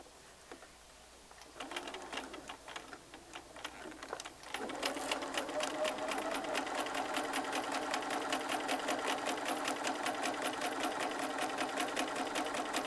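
A sewing machine stitches fabric for a steampunk sewing project, starting with a few soft thumps before settling into fast, steady, close mechanical stitching that runs to the end.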